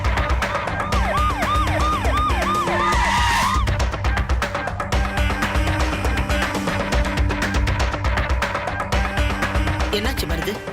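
An ambulance siren wails in rising and falling sweeps for a few seconds, then cuts out, heard amid a busy mix of background sound and voices in a Tamil TV serial scene.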